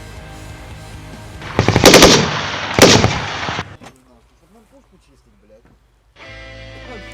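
A PKT 7.62 mm coaxial tank machine gun fires loud bursts of rapid automatic gunfire that rattle out in two main volleys, then fade into quiet with a voice speaking before the sound returns.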